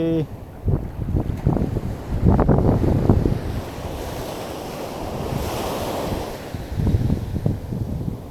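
Strong sea waves surge and break against Manori jetty in Mumbai, a loud, close wash of surf swelling and easing in repeated crashes, with heavy wind buffeting the microphone throughout.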